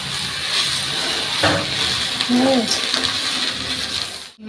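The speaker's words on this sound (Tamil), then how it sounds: "நம்ம ஏற்கனவே வாஷ் பண்ணி இருக்கிற கருவேப்பிலையை இதில் போட்டு கொஞ்சம் நம்ம சூடு பண்ணிடலாம்" Washed curry leaves are heated in a hot pan and give a steady crackling sizzle. A few sharp clinks and scraping sounds come through near the middle before the sound cuts off abruptly.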